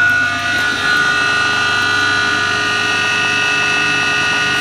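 Modified electric motor running at idle with no load, a loud, steady, close hum with sustained tonal whine throughout.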